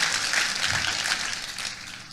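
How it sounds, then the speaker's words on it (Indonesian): A church congregation applauds, a short, dense wash of clapping that swells and then tapers off over about two seconds, moderately loud with no talk over it. "Tepuk tangan boleh yang paling meriah buat Yesus"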